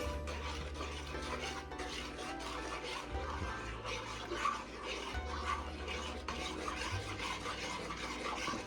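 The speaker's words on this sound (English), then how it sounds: "So we're going to stir it." A spoon scrapes and rubs steadily around a pan as a honey pineapple ham glaze is stirred, with continuous close scratchy strokes and faint clinks of metal on cookware over a low background hum.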